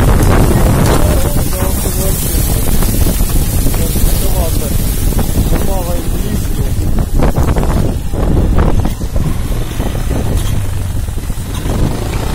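Strong wind from a small tornado roars and buffets the microphone while a vehicle drives into it, loud and unbroken throughout, with a voice briefly audible under the rush.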